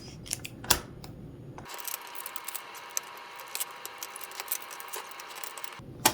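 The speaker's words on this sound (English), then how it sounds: "I'm just gonna use my paper trimmer and cut these apart" A paper trimmer slices apart pieces of vinyl cut for a custom can koozie: a few light clicks, then one continuous close scraping of the blade for about four seconds, and a final click.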